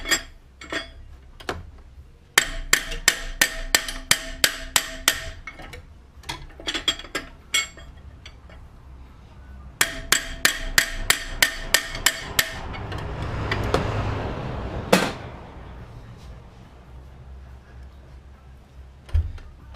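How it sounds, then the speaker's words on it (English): Small hammer tapping a part on a 2005 BMW X5 E53 engine during thermostat work, in quick bursts of sharp metallic strikes with ringing tones, separated by pauses and a brief rushing noise, close up. "Take a little hammer. All we're trying to do is we're just trying to shock it."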